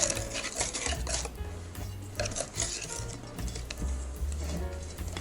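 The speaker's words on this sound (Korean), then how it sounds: "볼을 돌려가면서 거품기로 섞는다" A whisk beats batter of cake flour, baking powder and vanilla sugar as the bowl is turned, giving quick rhythmic scraping and clinking against the bowl at close range, steady and fairly quiet.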